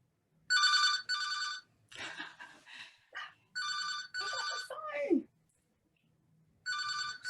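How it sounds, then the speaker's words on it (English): A mobile phone rings loudly in repeated two-part electronic trills with pauses between them; softer voice-like and whimpering sounds fill the gap in the middle. "That's Judy's phone."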